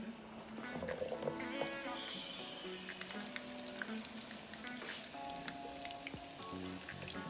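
Churros frying in hot oil, crackling and sizzling steadily, a busy spattering hiss with a faint tonal hum underneath, no voices.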